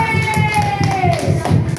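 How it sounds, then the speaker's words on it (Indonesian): A classroom of students claps for a student group in an even, steady patter lasting the whole stretch, with a tonal whine running underneath. "kita kasih tepuk tangan ya untuk kelompok Abang L"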